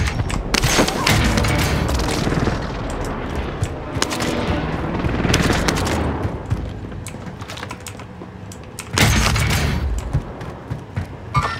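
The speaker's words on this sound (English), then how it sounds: "Allied precision airstrike incoming." Precision airstrike explosions in a video game, loud repeated blasts and heavy crackling gunfire in a dense, chaotic barrage, easing briefly before another strong impact near the end.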